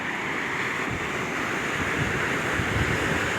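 Continuous wash of Pacific Ocean surf on the coast of Peru, with steady broadband roar and some wind buffeting, waves churning without pause and no voices.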